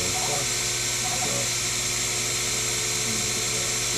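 Sherline CNC mill run manually, taking about 0.5 mm off metal on each pass: a continuous high, whining cutting and motor drone, loud and steady throughout with no clear breaks.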